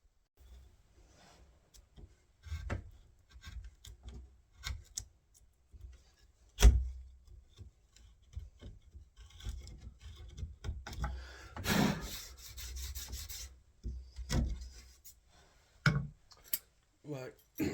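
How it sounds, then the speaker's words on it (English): A wooden door edge is chiseled out for a latch recess, with soft scraping and rubbing between sharp, scattered taps and knocks, fairly close and at an irregular rhythm. "So I'll carry on chiseling this out."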